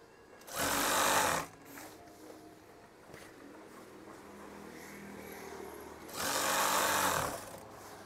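A sewing machine stitches a straight, even seam in two steady whirring runs of about a second each, close and loud, with a quieter motor hum and small handling sounds in between.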